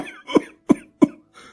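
A person coughing in a series of three sharp, close bursts, followed by a softer fourth cough, with short silent gaps between them.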